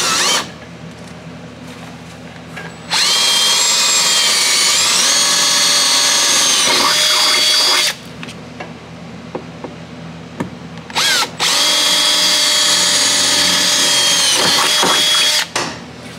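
A power drill whirs loudly in two long bursts, boring holes into a car's metal firewall, with brief pauses and small clicks and handling noises between runs.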